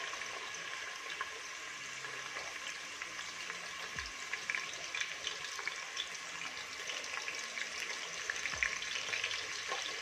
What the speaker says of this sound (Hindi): ये प्याज इसमें मैं फ्राई कर लूँगी।